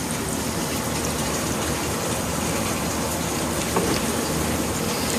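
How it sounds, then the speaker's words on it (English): Water pours from a watering can onto indoor citrus plants, working in from the edge of the pot, a continuous close splashing gush that holds steady throughout. "So I water the plants, and I start from the outside so the water can distribute evenly."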